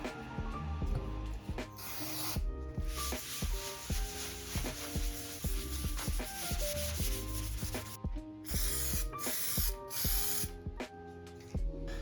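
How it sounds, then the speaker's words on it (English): Short hissing bursts of spray paint come in a few separate blasts, set against background music. "Now I'm gonna clean this part of the roof and spray paint it as well."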